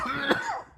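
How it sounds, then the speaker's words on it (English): A single short, rough cough with a bit of throat clearing, close and clear, trailing off into quiet. "Oh, we're getting a live cough here."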